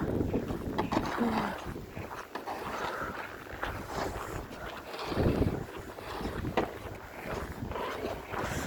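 Strong wind gusts buffet the microphone on a dark, snowy morning at minus 18 degrees, a rough, uneven roar rising and falling continuously, with faint sounds of movement beneath.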